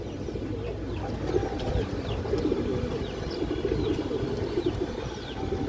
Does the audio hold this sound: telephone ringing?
no